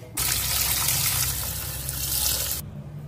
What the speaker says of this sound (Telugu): మంచి నీళ్ళతో మళ్ళీ కడుక్కోవాలి